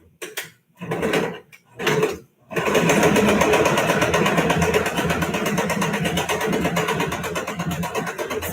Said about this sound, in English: I'm going to sew a little bit and back stitch.